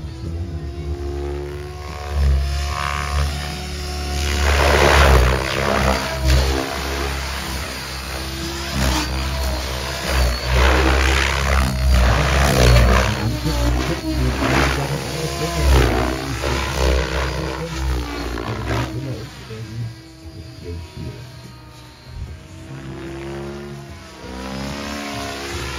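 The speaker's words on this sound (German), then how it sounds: "absolut verrückter Heli-Kunstflug." A Logo 700 model helicopter flies freestyle 3D aerobatics at a model flying club meet, its rotor and engine roaring loud and close, surging and pulsing continuously through rapid pitch changes.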